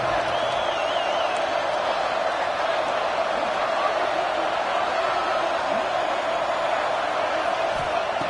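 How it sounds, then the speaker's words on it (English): A distant stadium crowd at a football game roars in a steady, continuous wash of noise, with no individual voices standing out. "Listen to the crowd energy here in the early going"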